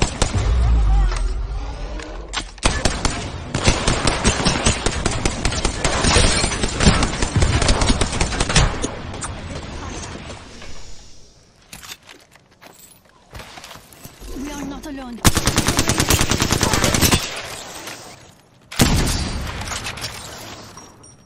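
Bursts of gunfire in Apex Legends come in loud, dense stretches with short gaps between them, mixed with game effects and someone talking over the action.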